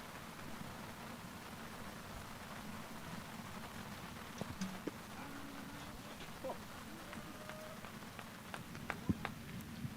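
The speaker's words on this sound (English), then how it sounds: "the big drops are coming down." Steady rain with big drops falling at an outdoor high school baseball game, a faint, even wash with scattered light taps and no talk.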